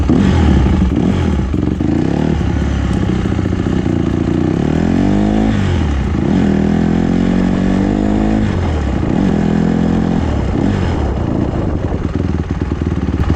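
A dirt bike engine running loud and close, held on the throttle with repeated rising and falling revs over a constant rough idle, with no talk.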